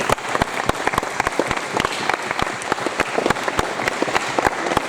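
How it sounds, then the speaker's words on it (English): Audience applause at an award ceremony, a loud, continuous crowd of clapping hands with distinct individual claps standing out near the front, steady throughout about five seconds. "give a round of applause for everybody that's here today"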